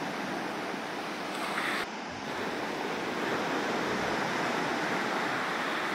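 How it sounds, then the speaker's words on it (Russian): Calm ocean surf on a beach in the evening, a steady soft wash of small waves with light wind noise on the microphone, continuous and fairly quiet, with no voices. "Зацените, какое красивое море, вернее океан. Спокойный, спокойный, даже не верится."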